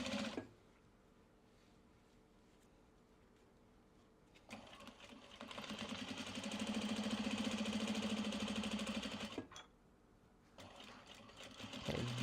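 Sewing machine stitching Japanese fabric for a traveler sling bag, running in a steady sustained burst of rapid needle chatter after quieter handling, then stopping, with a short restart near the end.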